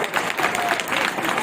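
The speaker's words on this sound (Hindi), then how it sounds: "जोरदार तालियां।" Loud, continuous applause fills a school farewell party, a dense steady wash of clapping from a crowd with no break.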